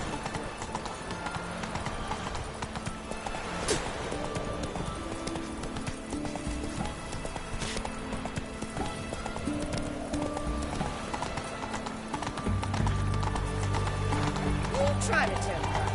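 Hooves of a galloping horse in The Witcher 3: Hearts of Stone, a steady rapid clip-clop under game music and voices, with a whinny and a heavier thump near the end.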